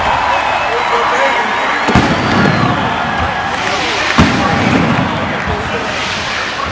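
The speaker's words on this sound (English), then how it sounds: "Fireworks over at Qualcomm Stadium celebrating a thrilling 12-9 Charger victory over the Arizona Cardinals." Fireworks over Qualcomm Stadium after a Chargers preseason win over the Arizona Cardinals, heard as a dense crackling wash with a couple of sharper booms, while a crowd murmurs underneath.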